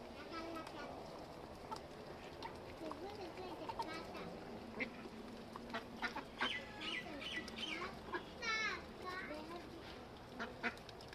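Ducks and chickens at feeding time quack and cluck in a busy, fairly faint flock chorus, with a person talking over the birds throughout.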